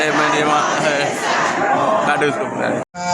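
Large crowd at a funeral in Tehran, chanting slogans in unison. The voices are dense and continuous and close, with a brief drop near the end.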